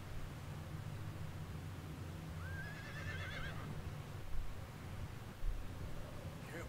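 A horse in the Red Dead Redemption 2 video game gives a clear, mid-distance whinny, set against a low steady wind-like background with faint hoof movement and a couple of soft thuds near the end.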